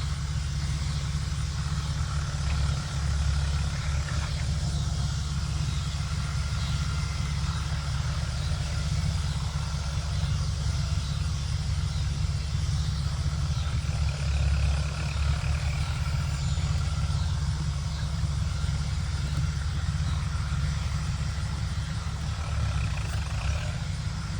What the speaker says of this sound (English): maybe a little noisy because I left the truck running